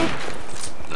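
Sustained rapid gunfire at a Witch in the video game Left 4 Dead, a dense, continuous barrage of shots filling the whole moment at close range.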